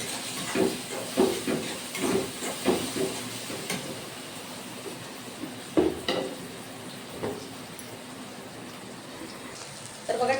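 Chili powder and salt stirred into a hot pan of oil while cooking methi (fenugreek) bhaji, a steady hiss and sizzle with several scraping stir strokes early on, close and moderately loud, then fading to a quieter sizzle.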